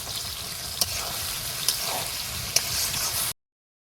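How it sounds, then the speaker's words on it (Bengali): Chicken pieces frying in a pan with Kashmiri chilli, cumin and coriander powders, a loud continuous sizzle broken by a few sharp spoon clicks against the pan before cutting to silence. "মাংসটা ভালো করে কষিয়ে নিয়েছি"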